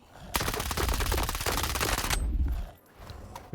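A loud, rapid burst of automatic gunfire in the video game STALKER 2 rattles for about two seconds, then cuts off, leaving a quieter low hum.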